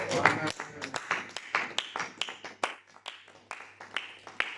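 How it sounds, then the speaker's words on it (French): Congregation applauding during a church service, with dense, rhythmic clapping from many hands that comes in quick waves and stays steady and fairly close throughout. "Applaudissons le Seigneur."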